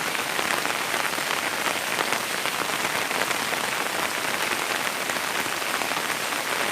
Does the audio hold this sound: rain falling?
yes